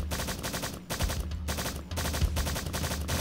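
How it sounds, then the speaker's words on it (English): Turret shooting at the player in the game Strife, heard as a steady stream of rapid gunfire shots, dense and continuous throughout with slight dips, at moderate loudness and with no talking. "I feel like there's a turret on the opposite side right there trying to shoot me,"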